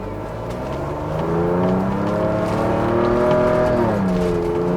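A 2021 Ford Bronco engine revving hard in an off-road drive mode, its pitch climbing steadily then dropping at a gear shift, loud and close with a continuous droning note.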